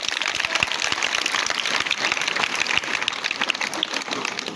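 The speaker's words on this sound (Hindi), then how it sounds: "ताली बजाओ इसके लिए" An audience claps steadily for a child for a few seconds, a dense, even patter with no voices over it.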